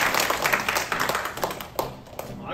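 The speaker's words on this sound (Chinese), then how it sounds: "掌声一下" A short burst of clapping from a small group at an association's board and supervisors' meeting, with scattered irregular claps and a few voices chatting underneath.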